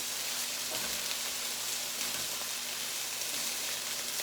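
Continuous crackling sizzle of chicken frying in hot oil, steady and close, with faint pops and no talking.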